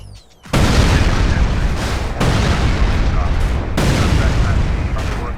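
Heavy booming explosions mixed with gunfire in a modded GTA San Andreas fight with the police, loud close blasts repeating every second or two under a continuous roar.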